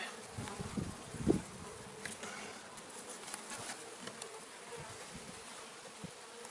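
A dense, steady buzzing of many honey bees swarming close by at an open hive, with a few louder thumps and brief bumps near the start.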